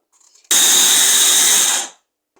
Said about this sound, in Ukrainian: Збила кабачок блендером